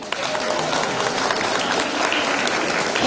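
Loud, sustained applause from a crowd at a local ceremony marking the anniversary of the Union of the Romanian Principalities, dense clapping filling the room evenly throughout.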